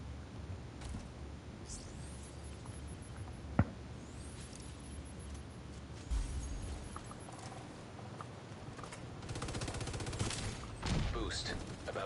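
Gunfire in a Division 2 PvP match: scattered shots and a sharp single crack amid game effects and background noise, with a heavier burst of fire later on, all fairly low in the mix.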